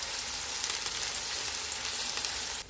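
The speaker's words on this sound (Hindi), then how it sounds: "इसमें प्याज डालेंगे। चूल्हे को लो टू मीडियम रखेंगे और इनको नरम होने तक फ्राई करेंगे।" Chopped onions fry in hot oil over a low-to-medium flame, giving a steady, dense sizzle that holds evenly close-up and then cuts off abruptly at the end, with no talking.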